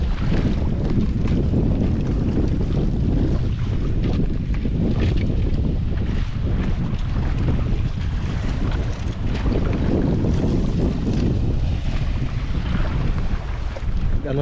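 Strong northeast monsoon wind roars steadily over a fishing boat at sea, a loud continuous rumble of wind buffeting the microphone with the wash of waves beneath, no voices throughout.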